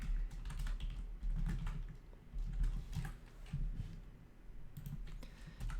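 Someone typing on a computer keyboard while writing Go code: a steady run of soft, close key clicks in uneven bursts over a low room hum.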